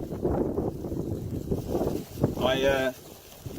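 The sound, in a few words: wind outdoors in cold Arctic-like weather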